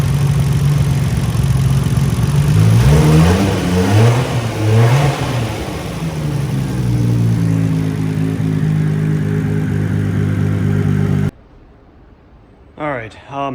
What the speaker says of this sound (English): first I did the engine start.